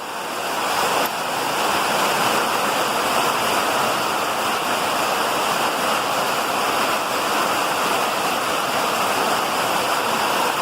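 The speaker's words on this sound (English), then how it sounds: "Oh yeah, you can see it dripping in here." Heavy rain pours down in a dense, steady hiss that stays loud and unbroken from start to finish.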